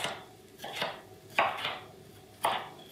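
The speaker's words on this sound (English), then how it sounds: "Chop it up, push that aside, and do the same thing to the other half of the pepper." A knife chops through a bell pepper on a cutting board, four crisp thuds spaced irregularly over a quiet kitchen background.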